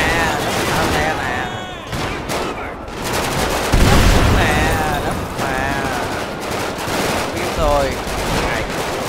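Gunfire in the video game GTA 5, with rapid bursts and volleys of shots running through the whole stretch. A voice talks over the shooting.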